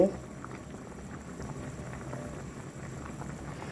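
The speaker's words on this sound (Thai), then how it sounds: "วันนี้ย่าจะมาต้ม ต้มเค็มกระดูกหมู" A pot of Thai salty pork bone soup bubbles at a steady simmer, a soft continuous boil with faint pops, heard alone without talk.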